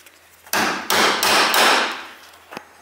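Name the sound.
hammering metal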